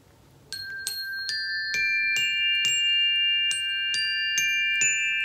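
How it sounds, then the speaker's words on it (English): A set of chimes is struck one note after another, about ten bright, ringing tinkles in a steady rhythm, each note sustaining and overlapping the next, close and clear with no talking. "let me show you my chimes"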